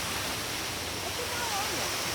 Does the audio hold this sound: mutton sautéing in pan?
no